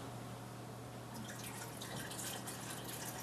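Water poured over steeped grains to sparge them while brewing a Belgian IPA, a faint steady trickle and splash with bright spattering that grows busier in the second half, under a low constant hum.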